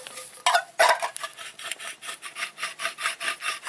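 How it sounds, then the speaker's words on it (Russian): A small metal punch is worked back and forth to widen a hole in a garage workshop, producing a quick series of rasping, scraping strokes in a steady rhythm, close and moderately loud, with no talking. "Вот таким вот пробойничком еще расширяем его."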